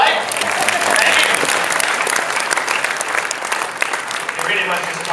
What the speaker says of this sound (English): that was rather appropriate applause